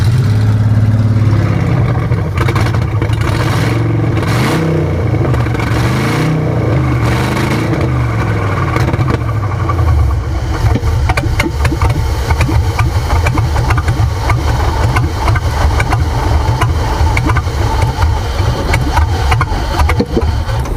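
A Ford Maverick with a swapped-in 302 EFI V8 revs in a few rising, lumpy bursts, then settles into a steady, loud idle, close up with no talk.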